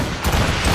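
Ship cannons loose a volley in Assassin's Creed Rogue, a loud, dense burst of overlapping booms filling the whole moment without pause, with no voices over it.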